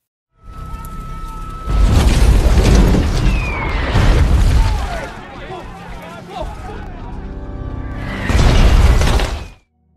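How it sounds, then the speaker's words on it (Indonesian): Mortar shells fired by Viet Cong forces explode on a military base at night, with loud booming bursts and crackling debris in several waves, overlaid by dramatic effects and narration. "pangkalan justru dihujani mortir oleh pasukan Viet Cong"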